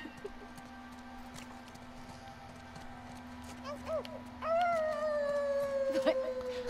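A game character's voice imitates a wolf howl in The Last of Us Part 2, giving a few rising and falling wavering cries that grow louder toward the end, over a steady low game hum.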